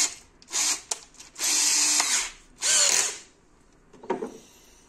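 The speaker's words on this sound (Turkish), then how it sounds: "Tam merkezinden bir delik açmam gerek." Power drill boring a hole in a broken plastic chair during a repair, several loud whirring bursts of varying length separated by short pauses, close by, with a final softer burst.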